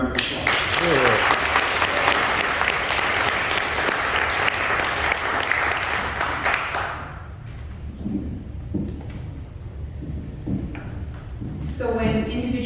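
Audience at an annual general meeting applauds steadily and loudly for about seven seconds, the clapping then fading into scattered claps, murmurs and room noise.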